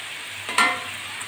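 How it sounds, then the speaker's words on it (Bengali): Potatoes frying in oil with onion and garlic give a soft sizzle, with a brief louder stirring swell midway and no talk. "আলুগুলো লাল করে ভেজে নিয়েছি।"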